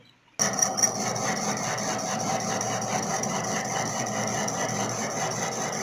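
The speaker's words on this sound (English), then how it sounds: "Now turning operation is carried out." A lathe runs steadily through a step turning operation on a workpiece in a workshop lab, a loud, continuous mechanical whir that starts abruptly and holds even, with no voices.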